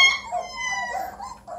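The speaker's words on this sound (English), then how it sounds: "they're hungry, so they're howling" Three-week-old Bluetick Coonhound puppies, hungry, howl and whimper in high, wavering cries that overlap one another close by, continuous for a moment with no talking.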